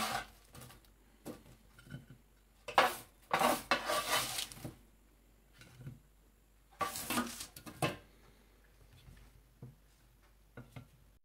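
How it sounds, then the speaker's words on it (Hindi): Baked potato wedges being moved from a baking tray into another dish, with several sharp clinks and scrapes of utensils against cookware in irregular bursts, fairly close, no talking. "अब इसे मैं दूसरे बर्तन में शिफ्ट कर लूंगी।"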